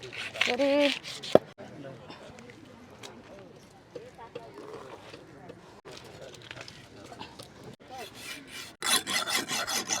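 A knife saws and rasps through a 20 kg Modusa fish at a Konkan fish stall, with scraping strokes loudest at the start and in the last seconds while people talk throughout.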